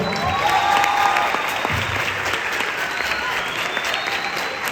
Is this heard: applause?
yes